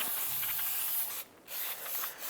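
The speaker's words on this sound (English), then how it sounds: "use a solvent to spray this down, get any of the brake dust knocked down" Solvent sprayed onto the brake parts of a 2011-2019 Ford Fiesta during wheel cylinder work gives a steady, close, loud hiss that stops briefly twice near the end, with no talking.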